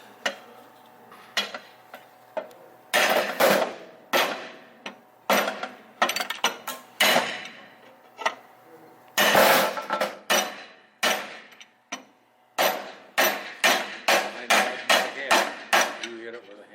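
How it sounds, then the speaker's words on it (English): Hammer blows ring on metal parts during a GMC motorhome transmission rebuild, loud sharp strikes in irregular bursts, some quick series of rapid taps, with brief pauses between. "You hit it with a hammer."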